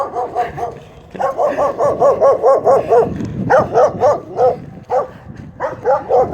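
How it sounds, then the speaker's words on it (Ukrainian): Several dogs barking in rapid repeated bursts, some nearby and loud, others answering, with short pauses between volleys. "Місцеві подгавки."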